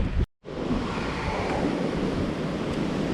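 Strong wind roars steadily against the microphone while hiking uphill above tree line in the Great Smoky Mountains on a cold day, a loud continuous rushing with a brief cut near the start.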